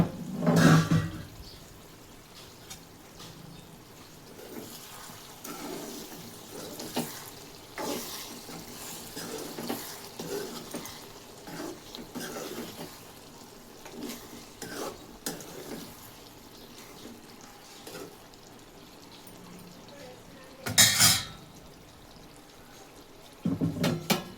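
A spoon stirs potato and egg curry in a pan now and then, giving soft scraping and bubbling over a low simmer, with a few louder clanks at the start and near the end, and no talk.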